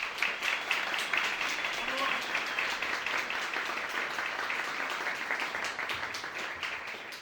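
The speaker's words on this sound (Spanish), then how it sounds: "Un nuevo aplauso para esta gente." Steady applause from an audience at a cultural arts event, heard at a distance and fairly faint, tapering slightly near the end with a murmur of voices underneath.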